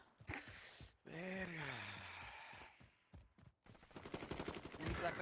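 Video game gunfire cracks out in short, rapid bursts, with dense automatic shots toward the end. A player's voice sighs and exclaims between the shots.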